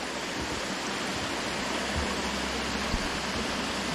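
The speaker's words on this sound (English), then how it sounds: "It's part of the waterfall." Steady, full rush of falling water, constant and fairly loud with no breaks, from a small waterfall close by on a trail near Lake Rabun.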